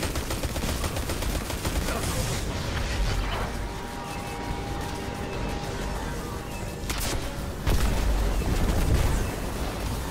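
Weapons firing in the video game Destiny 2, a dense barrage of rapid shots and heavy blasts that stays loud and continuous, with a sharp louder burst near the end.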